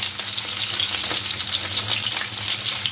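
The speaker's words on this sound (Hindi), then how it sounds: "मछली फ्राई हो रही है हमारी।" Fish pieces frying in oil on a flat tawa, a steady close sizzle with crackling spatter throughout, no talk.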